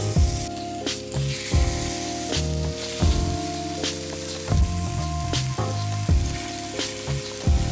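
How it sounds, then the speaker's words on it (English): Short ribs sear in a Dutch oven with a steady, close sizzle running under loud background music with stepped melodic notes that largely masks the frying. "So we're gonna take the meat over and start searing these bad boys."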